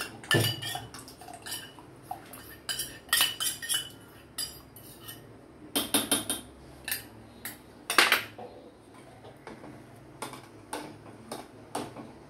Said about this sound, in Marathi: आता हे मॅश केलेले पार्ले बिस्किट आहे हे मी दुधामध्ये ऍड करत आहे।